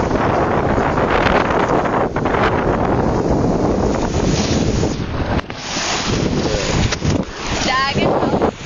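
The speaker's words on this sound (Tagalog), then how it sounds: "Dagat to. Dagat to." Strong wind buffets the microphone at the sea shore, with crashing surf and waves rolling in a loud, continuous wash.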